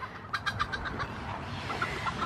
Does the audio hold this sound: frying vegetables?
no